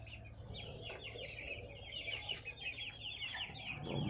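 Young chicks cheep in a constant chorus of high, overlapping peeps, fairly faint and continuous throughout.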